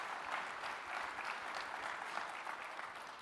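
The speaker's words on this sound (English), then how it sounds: "big round of applause for my opening act" Applause from a keynote audience at an IT conference, welcoming the opening act: a steady, dense wash of many hands clapping at even loudness, with no speech over it.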